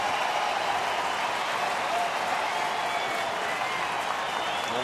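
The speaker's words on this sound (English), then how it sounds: "Here comes that crowd again." Near 42,000 fans at a Detroit night baseball game keep up a steady, roaring wash of cheering and applause, dense and unbroken throughout with no clear voices standing out.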